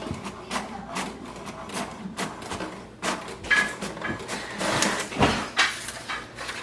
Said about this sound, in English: Wait for the printer. It will print the information page.